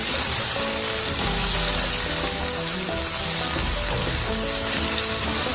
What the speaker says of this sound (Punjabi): ਘਿਓ ਸਾਡਾ ਗਰਮ ਹੋ ਚੁੱਕਿਆ ਤੇ ਅਸੀਂ ਇਹਦੇ ਵਿੱਚ ਪਿਆਜ਼ ਪਾ ਦਿੱਤਾ